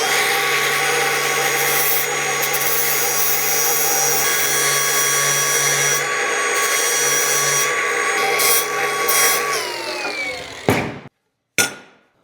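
Pieces of steel rebar being cleaned up and chamfered at the edges in a cold garage, a loud continuous grinding whine with a steady hum underneath that winds down near the end, followed by a couple of short clattering knocks.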